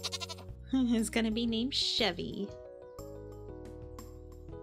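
Goats bleat in the farming game Stardew Valley, several short game-sound calls layered over steady background music while a person talks over them.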